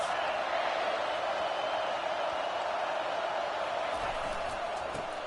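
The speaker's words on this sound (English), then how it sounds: "This crowd trying to make life miserable for this offense." Stadium crowd roar from the NCAA 25 college football video game, a steady, loud wash of massed voices filling the whole stretch, with no words spoken.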